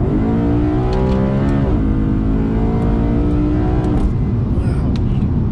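A BMW E90 M3 engine revs hard and climbs steadily in pitch, loud and close, with a brief shift and some rattling near the end.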